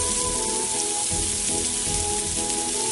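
Thinly sliced onions sizzle and crackle in hot ghee or oil in a frying pan, a loud, steady, close-up hiss that continues without pause.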